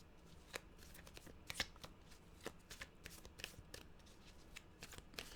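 A deck of tarot cards being shuffled by hand, soft riffling and sharp slaps in an irregular rhythm, close but quiet, with no talking.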